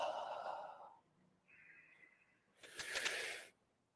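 A few loud, breathy exhales and sighs during a yoga class, each a rushing burst of air, close and unaccompanied by talk.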